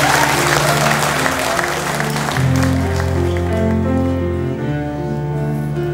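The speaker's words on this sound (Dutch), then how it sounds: "Dus geef hier een applaus." An audience applauds after a sung Hallelujah performance, clapping steadily throughout while sustained piano or organ chords ring underneath.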